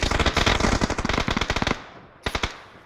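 Rapid automatic gunfire in a first-person shooter game: a fast burst of sharp, loud shots in steady rhythm, then a short pause and a final quick cluster of a few rounds.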